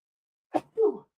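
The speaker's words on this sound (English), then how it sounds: "I'm going to sneeze." A single sneeze, a sharp intake followed by a burst, quick and close, then silence.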